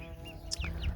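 An Appenzeller hen gives a few soft, brief clucks and murmurs outdoors at a poultry farm, fairly quiet against a low background rumble.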